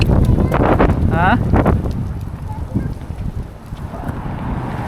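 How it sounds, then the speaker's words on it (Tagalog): Strong wind buffets the microphone in loud, gusty rumbles, with brief voices and a rattling sound early on. "Ang lakas ng hangin eh."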